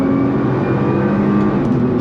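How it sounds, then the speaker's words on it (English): A Nissan R35 GT-R pulls away in a launch control start, its engine a loud, steady roar heard close up for a couple of seconds. "let's do launch control again. Left foot on the brake, right foot on the throttle."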